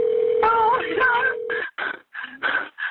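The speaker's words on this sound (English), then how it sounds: "Answer the phone!" A telephone rings with a steady electronic tone, loud and close, while excited voices shout over and around it.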